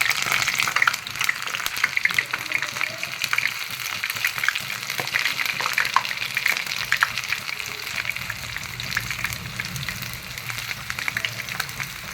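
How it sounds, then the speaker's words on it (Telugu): Ivy gourd (dondakaya) pakodi fry in hot oil on a low flame for the whole stretch, a steady, close, bubbling hiss that runs on evenly, with a few faint clinks and no voices. "ముందు ఆయిల్ మరిగింది కాబట్టి మనం సిమ్లోనే వీటిని అలాగే వేయించుకుంటే"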